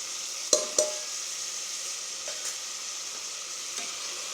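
Mutton with chilli and masala powder is stirred in a pan over a soft, constant sizzle, with two sharp spoon scrapes near the start and fainter ones later.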